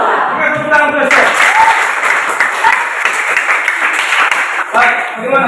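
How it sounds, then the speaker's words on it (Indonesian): Audience clapping at a university biology teaching competition in a classroom at Universitas PGRI Madiun: dense, steady applause for about five seconds, with voices and a few cheers mixed in. "Oke, tepuk tangan terus ya"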